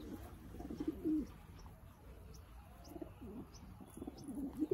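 Pigeons feeding on a new grain mix, with soft low cooing and bird calls scattered through a murky, moderately quiet background, plus faint pecking rustles and occasional chirps.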